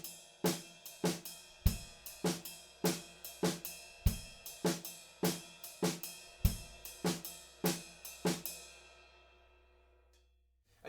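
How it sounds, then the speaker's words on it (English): A ride cymbal pattern played alone, evenly spaced ringing pings with a few low kick accents, the shimmer trailing off into a decaying wash at the end. "And it's just on the ride cymbal"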